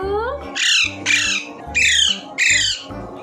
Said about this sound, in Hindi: देखो हमारे मिट्टू पिंजरे बंद हो चुके हैं